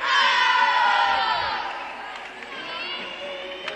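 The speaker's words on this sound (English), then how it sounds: "The girls giving her a cheer." Gymnastics teammates at a Boise State college meet cheer and shout loudly for a gymnast after her vault. A dense burst of voices is strongest at the start and then tapers into lively crowd chatter.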